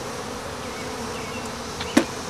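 A honeybee mating swarm returning to a hive box outdoors, a steady dense buzzing drone throughout with a sharp knock or tap near the end, fairly loud and with no talk.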